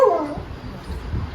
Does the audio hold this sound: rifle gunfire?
no